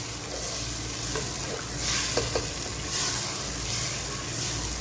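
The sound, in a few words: stirring tomato puree into mutton handi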